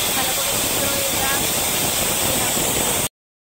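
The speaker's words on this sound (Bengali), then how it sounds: "এদিকে এসে দেখলাম আমাদের প্রেসারে সিটি উঠছে" Steam hisses loudly and steadily from a pressure cooker boiling potatoes in a home kitchen, a broad, continuous rush that cuts off abruptly after about three seconds.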